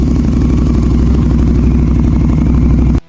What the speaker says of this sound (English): the guy that owned the shop actually started this bike up for